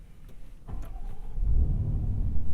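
A 2022 Land Rover Defender 90 V-8 comes to life with a brief starter whirr, then settles into a deep, steady idle rumble that builds slightly, heard from inside the cabin.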